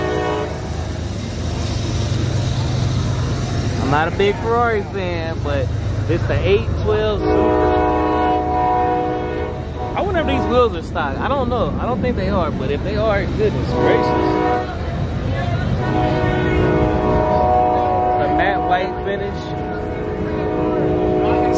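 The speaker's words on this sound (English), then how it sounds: "Excuse the train. Train going by." A train rolls past an outdoor exotic car show in Wyoming, its horn blaring in long sustained blasts over steady rail rumble, loud and close, while someone talks over it.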